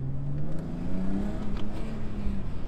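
A BMW E36 inline-six engine revved up for a sound check, a fairly loud, rising and falling engine drone with a smooth tone and a couple of blips, heard close by.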